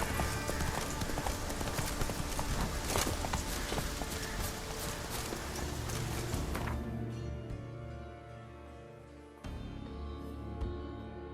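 In The Witcher 3: Wild Hunt, a horse gallops in fast, loud hoofbeats over the rush of the game's ambience, then the din drops to quieter background sound.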